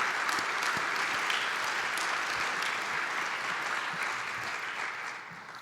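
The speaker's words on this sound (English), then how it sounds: "join me in a round of applause for that committee and all the people who put this great event together for us" A full round of audience applause at a conference keynote event, dense steady clapping from a crowd that holds strong for several seconds, then starts to thin and fade toward the end, with no voices over it.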